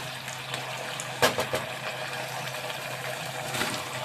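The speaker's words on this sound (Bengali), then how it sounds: "এটা এবার একটু হাই ফ্লেমে একটু ফুটতে দিলাম" Chilli fish sauce boils in a pan over a high flame with a steady, soft bubbling and hissing. A few brief clatters sound close by.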